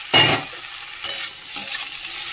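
Okra tossed into a pan of frying potatoes and onion, giving a few short scraping stirs and sizzling bursts, close and fairly loud, with no talking.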